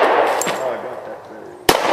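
Two sharp gunshots from a Glock 30S pistol, one early and a louder one near the end, cracking over a steady broadband background with a short gap between them.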